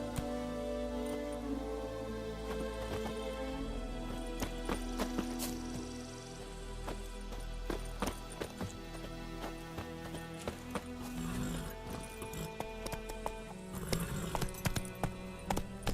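Hoofbeats of the horse Roach galloping in The Witcher 3: Wild Hunt, a steady run of clip-clopping over a bed of game music and ambience, with scattered sharper knocks.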